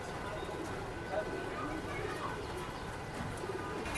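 Domestic pigeons coo in pairs at a pigeon market in Tongi, making a soft, continuous cooing murmur over a busy, noisy crowd where people talk nearby.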